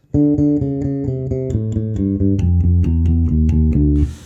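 A fingerpicked bass guitar plays a steady stream of quick sixteenth notes in a driving rock groove, close and loud, ending abruptly.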